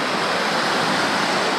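A waterfall pours into a lake near Toquerville, Utah, making a close, loud, unbroken rush of water with no speech over it.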